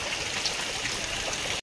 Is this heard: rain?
yes